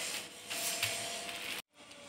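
Close, steady rubbing and rolling of an oiled potato dough under a plastic sheet on a kitchen surface, a continuous scraping friction with a brief pause near the end before it resumes.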